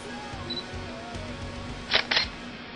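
A camera fires twice in quick succession while capturing a frame for a Lego stop-motion brickfilm, two crisp shutter clicks close to the microphone over a quiet room hum.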